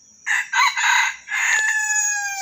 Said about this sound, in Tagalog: ganda ng tilaok niya mga master.